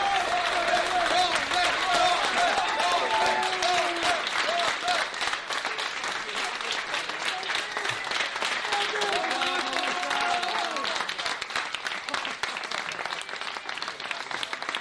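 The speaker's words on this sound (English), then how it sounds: "Everyone's backstage clapping." A backstage crowd at a wrestling show applauds continuously, dense clapping with some cheering voices mixed in, steady and fairly loud throughout.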